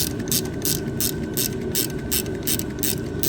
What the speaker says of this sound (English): we can actually use this to tie the bolt faster.